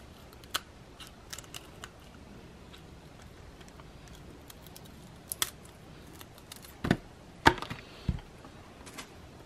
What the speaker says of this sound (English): Now we'll just cut along that other side of the spine and get the neck and the spine off.